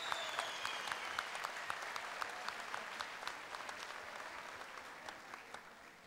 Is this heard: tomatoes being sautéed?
no